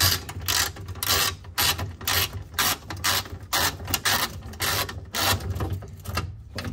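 Ratchet wrench loosening bolts under a Toyota GR86 during an oil change, with a steady run of close, rapid clicking and clatter in repeated bursts and short pauses, alone without talk.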